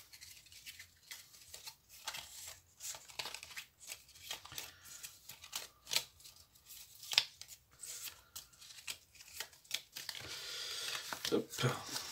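Saint oracle cards shuffle and slide in quick bursts of papery riffling and flicking, close and fairly quiet, with soft talk between the handling.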